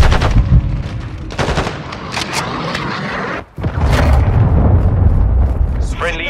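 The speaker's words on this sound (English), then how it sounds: "Friendly cruise missile deployed." Cruise missile strike in Call of Duty: Modern Warfare II, amid loud, dense gunfire and heavy explosive booms on a busy battlefield, with a brief drop near the middle before the rumbling barrage resumes.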